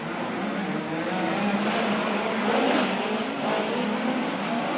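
A USAC midget race car roars around the Merced Speedway oval, its engine a steady, loud, high-revving drone that swells slightly as it powers through the turns.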